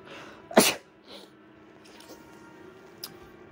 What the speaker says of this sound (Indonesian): Gua mau bersin.